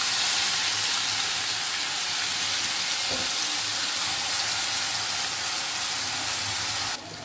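Onion and garlic paste frying in oil for a prawn malai curry, giving a steady, close, broadband sizzle and hiss that holds evenly throughout, alone with no talk, dipping slightly at the very end.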